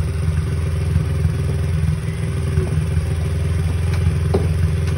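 A Honda CRF50 kids' dirt bike engine idles steadily and close by, its low, even chug running throughout with light mechanical clatter and a few faint clicks as it is put into gear.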